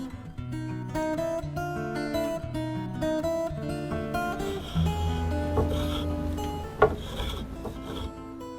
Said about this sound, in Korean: 대패질 소리가 울리는 목공소